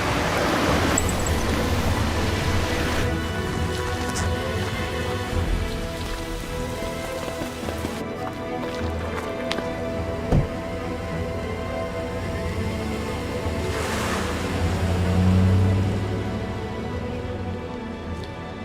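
Heavy rain pours steadily and loudly, a dense continuous hiss of drops striking surfaces close by, unbroken for the whole stretch.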